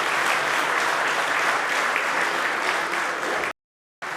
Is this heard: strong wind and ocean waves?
no